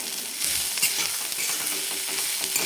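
Chili powder is stirred into a sizzling shrimp chutney of fried onion in oil, with a steady frying hiss and soft scraping stir sounds close by, no talking.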